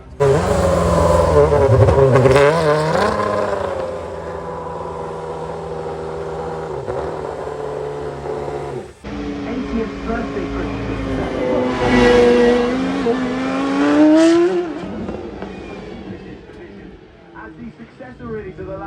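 A yellow Ferrari 12-cylinder front-engined V12 accelerates up the Goodwood Festival of Speed hill in 2025, its engine note sweeping and rising loudly, dipping briefly, then climbing again, with a voice talking over it.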